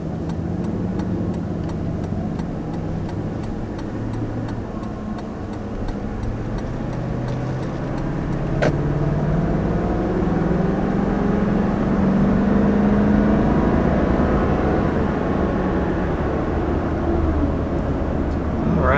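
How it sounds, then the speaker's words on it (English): A 2019 Toyota Land Cruiser, a large body-on-frame SUV, pulls away on the road, its engine and road noise rising steadily as it gains speed, heard from inside the cabin with a faint ticking early on. "So first, taking off in the 2019 Land Cruiser."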